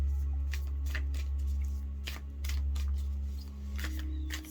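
Tarot cards are shuffled close up in a quick run of riffles and soft slaps over a steady low hum.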